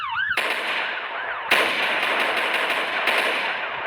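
Rapid bursts of automatic gunfire in Roblox crackle densely and continuously, with a sharp swooping electronic tone at the start and brief breaks between volleys.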